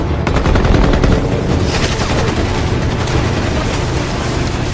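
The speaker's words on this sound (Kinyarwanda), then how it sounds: "Murayumva ko mbunda za Sunepa." Sniper rifle fire in a dubbed action film, a dense, loud, sustained barrage of overlapping gunshots and booming blasts that fills the whole passage without pause.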